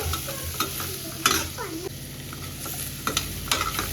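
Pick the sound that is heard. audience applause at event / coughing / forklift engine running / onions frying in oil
onions frying in oil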